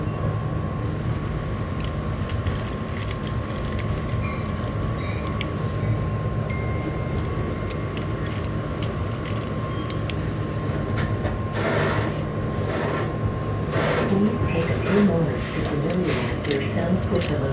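Metro train interior with steady rolling rumble and an electrical hum, a recorded onboard announcement voice speaking over it, loud and continuous throughout.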